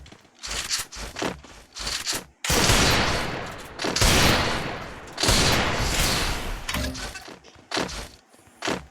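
Rapid bursts of video game gunfire, loud and close, in dense volleys separated by brief pauses and single shots.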